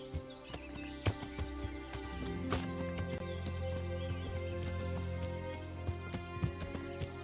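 Horses walk slowly through the medieval world of the Kingdom Come: Deliverance video game, with soft clip-clop hoofbeats over a steady low hum of game ambience.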